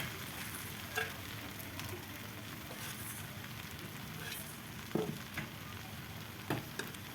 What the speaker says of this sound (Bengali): তো এখন আমি এর মধ্যে শুটকি মাছগুলো দিয়ে দেবো।